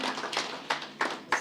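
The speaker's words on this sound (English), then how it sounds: "I think they deserve a round of applause for what they do for our markets." Audience applause at a bank's combined offer presentation, a short burst of scattered handclaps with a few sharper claps standing out.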